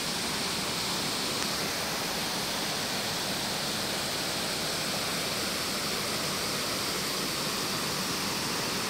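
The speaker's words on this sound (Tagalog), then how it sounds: "Yung falls namin." A waterfall roars steadily and loudly from start to finish, a dense unbroken rush of falling water with no voices.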